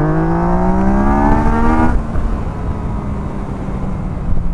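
A 2021 Yamaha MT-09 SP motorcycle's engine revs hard and climbs in pitch for about two seconds, then drops away into a steady rushing roar of riding, loud and close.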